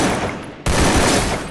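Loud, close gunfire from a battle royale video game comes as a dense, sustained burst of shots that cuts out briefly and then resumes at full strength.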